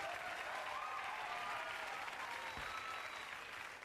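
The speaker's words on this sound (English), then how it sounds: "They're being told to applaud because they don't know who it is." A television studio audience on an early-1990s light entertainment show claps steadily, a dense even wash of applause sustained throughout, slightly distant and muffled.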